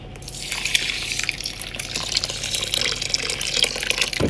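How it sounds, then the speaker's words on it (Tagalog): Hot water pours onto semolina and raisins in a bowl while tabbouleh is prepared, a steady close splashing stream that fills and gurgles for several seconds. "lagyan na natin ng mainit na tubig"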